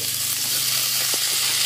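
Radish pieces, beans and eggplant sizzle in a hot pan as a mixed vegetable dish cooks, a steady close hiss of frying with a faint stir or tap near the end.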